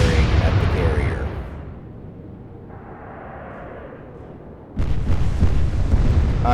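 Naval guns fire in an Atlantic Fleet battle. A heavy rumbling blast fades away, then after a quieter stretch a second loud burst of gunfire hits abruptly and keeps roaring.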